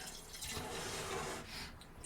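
Milk kefir pours from a bottle into a container, a faint, soft liquid trickle with a gentle gurgle lasting a couple of seconds, quiet and close.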